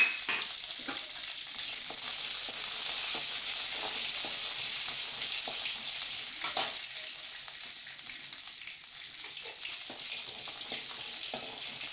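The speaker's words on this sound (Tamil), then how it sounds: "நிலக்கடலையை நல்லா வறுத்துக்கணும்" Half a cup of peanuts dry-roasts in a pan for peanut chutney, giving a steady, loud hiss with faint rattling and scraping from stirring throughout, easing slightly partway through.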